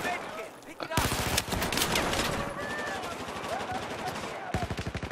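Rapid bursts of gunfire from a multiplayer shooter game, dense, loud overlapping shots with a sharp rattling automatic burst at the end, with players talking over the action.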